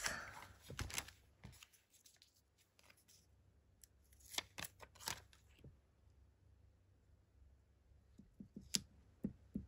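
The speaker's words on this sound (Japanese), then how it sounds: "ちょっとステッカーの角を丸くします" Scissors snip around the corners of a sticker: quiet, close, crisp cuts in short bursts with pauses between them, and no talking.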